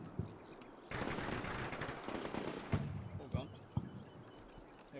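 Bursts of automatic and single-shot gunfire crackle through a military video game firefight, with dense sustained firing and sharper individual reports over background noise.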